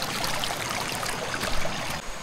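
A river stream near Aw-asen falls in the Ilocos Region flows steadily, a close, continuous bright rush and trickle of water with no voices over it.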